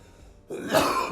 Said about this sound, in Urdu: سوری میری کچھ طبیعت خراب ہے تو یہ کھانسی چلتی رہے گی